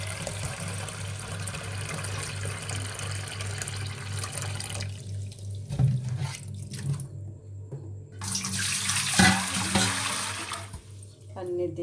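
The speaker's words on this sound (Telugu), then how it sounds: "దీంతోనే నీళ్ళు కూడా వేయబోతున్నాను" Water is poured from a measuring vessel into a container for vadiyalu batter, a steady running, splashing stream close up that drops off and returns for a second pour.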